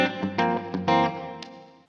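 A Gibson Les Paul Collector's Choice electric guitar on its neck pickup, with reverb turned up, plays a quick run of several plucked notes that ring and fade into an ambient tail.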